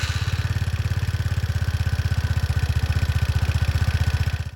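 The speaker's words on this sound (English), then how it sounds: "That's the exhaust." A Genuine Scooter Company Rattler 200i scooter, nominally 200 cc but really 168.9 cc and fuel-injected, idles with a steady, fast single-cylinder exhaust putter, loud and close, before cutting off at the end.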